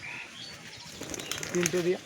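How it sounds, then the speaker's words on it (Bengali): A pigeon flaps its wings in short bursts while being held in a hand, the flutter rising near the end, with speech in the background. "আমার এই যে পায়রাটা"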